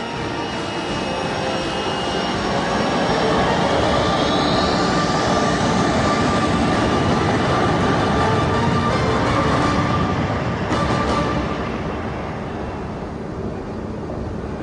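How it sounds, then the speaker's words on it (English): Vulture 7, an aircraft lifting off from an airstrip: a loud, sustained jet engine roar with a rising whine that holds steady and then eases slightly toward the end, with no voices. "Tacker ordered the pilot to lift. The pilot acknowledged, and Vulture 7 ascended over the airstrip."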